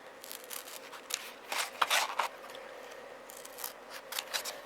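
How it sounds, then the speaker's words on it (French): Small scissors snip through craft foam for a little Christmas tree crown ornament, a close series of short crisp cuts at an uneven pace, with a denser cluster of snips near the middle. "J'ai ma petite paire de ciseaux à côté, ça suffit."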